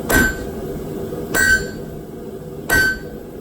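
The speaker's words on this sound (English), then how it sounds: "like 3 good solid hammer blows" Three loud, sharp metallic hammer blows ring out on an anvil while a blacksmith forges and flattens a turtle piece, evenly spaced about 1.3 seconds apart, each with a bright clanging ring, with no talking.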